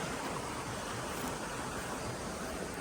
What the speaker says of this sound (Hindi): ये पानी की आवाज़ आप सुन रहे हैं